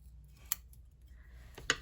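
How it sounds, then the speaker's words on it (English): Scissors cut through a pale paper index card, giving two quick, crisp snips about a second apart over a quiet room. "I'm just gonna cut that part off"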